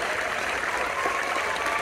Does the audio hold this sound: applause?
yes